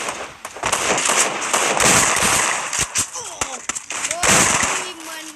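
Rapid gunshots from an online shooter video game, with sharp cracks and pops coming in quick bursts and close together, mixed under someone talking excitedly.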